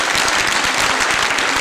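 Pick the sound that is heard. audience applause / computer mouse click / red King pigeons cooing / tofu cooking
audience applause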